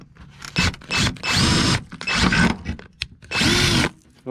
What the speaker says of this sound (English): I'm going to take my drill bit real quick.